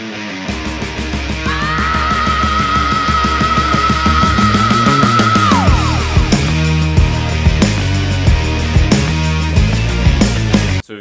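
A song plays as a loud, dense studio rock recording, with a long sustained bending guitar note over heavy driving drums and bass, ending in a sudden cutoff.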